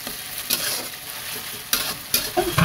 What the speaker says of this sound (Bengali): টমেটোগুলো আমি দিয়ে দিচ্ছি